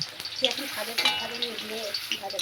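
Small bata, moula and puti fish crackle and sizzle in hot oil for a Bengali fish jhal, a steady close frying hiss with irregular spitting pops and what may be a faint voice underneath.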